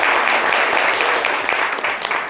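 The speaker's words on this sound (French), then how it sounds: "Applaudissez-la jusqu'à ce qu'elle arrive." An audience claps steadily as a woman comes forward at a live show, a continuous wash of applause with no talk.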